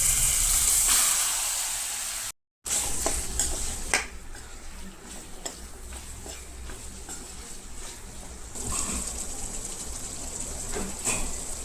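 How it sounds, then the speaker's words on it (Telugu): Half a kilo of chicken is stirred into a pan with fried paste and turmeric. Close metallic scraping and clinking of a spoon against the pan sit over a low sizzle, with no talking. "చికెన్ వేసుకొని అరకేజీ చికెన్ కలిపిస్తున్నాం."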